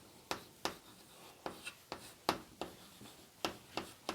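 Chalk or marker strokes on a board while working a Class 10 geometry volume problem, a series of sharp scratchy taps and short strokes at an uneven rhythm, close and fairly clear with no talking.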